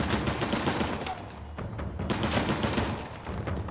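Shotgun gunfire in Uncharted: The Lost Legacy, a dense stretch of repeated loud blasts overlapping in a sustained firefight with no clear gaps.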